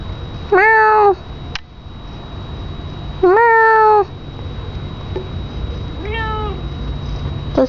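A cat meows three times, two loud drawn-out cries followed by a softer third, close by against a quiet background hum.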